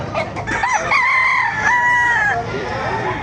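Hennie roosters at the Baliuag market crow in a loud, close, drawn-out call with a few clucks around it, and market noise sits underneath.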